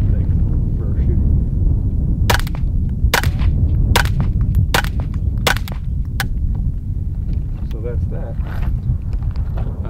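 Suppressed firearm shots at an outdoor range: about eight sharp, muffled pops come in a quick irregular string over a constant low windy rumble.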